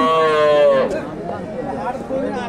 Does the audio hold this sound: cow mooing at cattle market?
yes